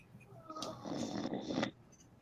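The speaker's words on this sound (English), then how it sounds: "He's still snoring." A single drawn-out snore, raspy and throaty, swelling over about a second before cutting off, close and fairly quiet.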